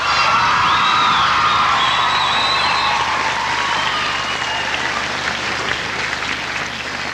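A school show audience claps steadily and loudly throughout, a dense wash of applause with some cheers and whoops mixed in before it slowly eases off.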